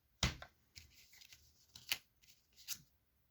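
Oracle cards being shuffled by hand during a card reading: a sharp riffling burst at the start, then several softer ruffling and snapping passes with short pauses between them, close up and quiet, with no talking.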